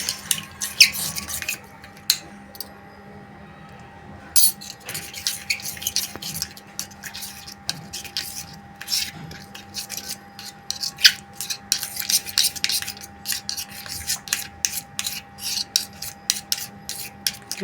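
Mayonnaise being stirred with salt and chili powder for mayonnaise corn, giving soft, close scraping and rubbing strokes of a utensil against a bowl in an uneven rhythm throughout, with no talking.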